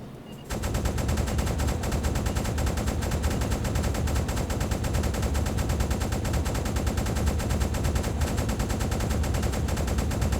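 Ship's deck guns blaze at attacking aircraft in the UBOAT video game, opening after a brief pause into a loud, dense, unbroken stream of rapid automatic fire that lasts about ten seconds.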